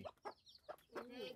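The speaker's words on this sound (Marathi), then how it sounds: "एक कोंबडी" Chickens at a village farm in Dapoli cluck in short, close bursts, with a longer, rising hen call toward the end, quiet and alone.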